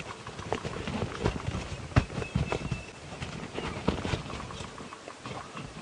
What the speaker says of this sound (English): We just got a sort of wave of rain there.